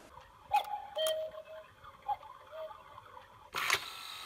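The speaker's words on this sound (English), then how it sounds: "Next to the front porch is my cuckoo clock" Soft, sparse ticking from a cuckoo clock hanging beside the front porch inside a house, quiet and close, ending with a brief louder clatter.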